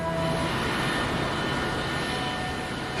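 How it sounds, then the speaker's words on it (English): A Lockheed L1011 airliner sitting on the ground with its engines running, a loud, steady, broadband roar with a faint whine, continuous throughout, heard from inside the cabin. "plane is just going to fly us down the runway and off for 45 minutes to Luxor"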